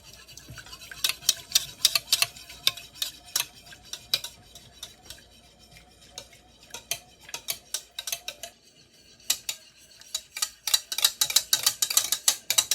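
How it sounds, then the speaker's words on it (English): White cake batter ingredients for a homemade vanilla Bundt cake whisked in a bowl, a rapid, bright ticking and clinking of utensil against the bowl in quick bursts with a short pause midway, close and alone. "Mix the white ingredients together until combined."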